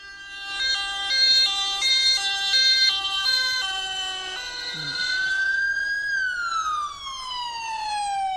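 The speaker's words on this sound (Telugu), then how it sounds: "సైరన్ వస్తుంది." An ambulance siren cycles through loud stepped tones, then slides into a long rising and falling wail that stays strong and close throughout, with no talking.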